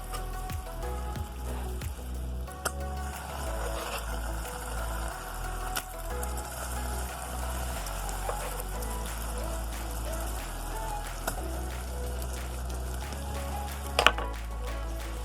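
Butter dropped into hot caramel in a pan sets off a dense, continuous crackling sizzle close by, with scattered sharper pops and clicks through the whole stretch and a brief louder knock near the end.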